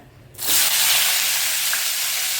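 Potatoes hit hot oil at the start and sizzle loudly and steadily, a broad close-up hiss of shallow frying that holds on without a break.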